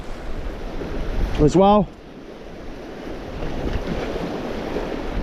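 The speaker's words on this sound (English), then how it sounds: "Our wind's picked up a little bit now. Quite breezy." Wind gusting over shallow water at night during bass lure fishing, a steady broad rushing roar close to the microphone, with a brief voice near the start.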